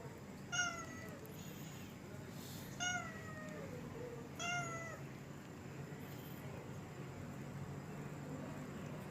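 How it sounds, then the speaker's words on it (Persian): A cat meows three times at spaced intervals, each call clear and fairly close over a quiet, low background hum. "بچه این گربه"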